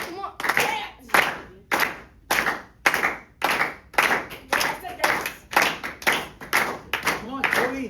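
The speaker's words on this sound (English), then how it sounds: "the studio audience performs a slow clap" A studio audience claps in a slow, steady rhythm, about two claps per second, loud and close, while a voice talks over the beat.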